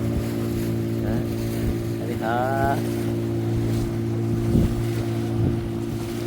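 A boat heads across the Arabian Sea toward Suvarnadurg Fort with a steady engine drone, wind and water noise throughout. A voice briefly speaks over it.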